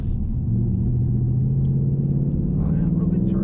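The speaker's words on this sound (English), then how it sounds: "I'm short shifting it, just because I don't want to rev it too high." A 2019 Ford Mustang GT S550 V8 drones low and steady while driving, short-shifted through gears without high revs, a continuous rumble from inside the cabin with a voice talking over it.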